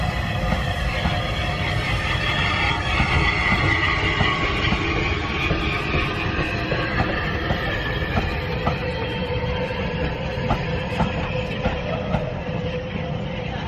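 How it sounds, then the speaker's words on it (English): A special train made up entirely of dining cars rumbles past in North West England at steady volume, a continuous heavy roar with faint wheel clatter and no voices. "Well, there's a train coming along,"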